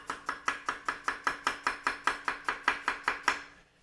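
A knife slices an onion on a cutting board in a quick, even rhythm, about fifteen crisp taps in a row, close and fairly quiet, with no voices.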